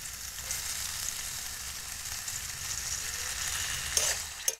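Flat beans, potato and eggplant, seasoned with salt, chili, cumin and turmeric, sauté in hot oil with a steady close sizzle and occasional stirring scrapes, and no talk.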